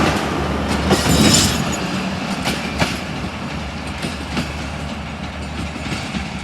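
Approaching 7up Tezgam Express, a Pakistani passenger train, rumbling steadily and loud with rhythmic wheel clacks and brief screeching squeals over the track noise, alone without voices.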